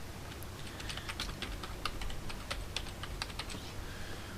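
Password being typed on a computer keyboard, a steady run of close, crisp key clicks in an uneven rhythm, with no other sound around them.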